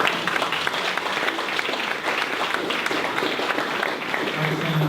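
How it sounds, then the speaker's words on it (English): Steady applause from an audience after a talk, dense clapping that fills the whole stretch without letting up. "Let's give Terry Welty a round of applause, folks."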